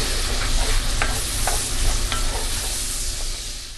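Bacon and onion fry in a pan for a hot German potato salad, giving a loud, close, continuous sizzle with a few soft stirring scrapes.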